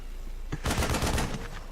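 A StarCraft Marine fires his rifle in a Zerg versus Terran match, a sudden burst of rapid gunfire lasting under a second amid a steady background of game noise, with no talk.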